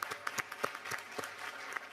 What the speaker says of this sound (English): So I think we should give them a big applause for that.